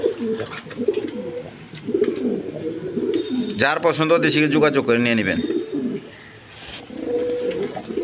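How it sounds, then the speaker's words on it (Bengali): Large satin pigeons at a seller's stall coo in low, rolling bursts close by, with someone talking over and between the calls. "আল্লাহর মধ্যে একদম বিগ সাইজের কবুতর দেখেন"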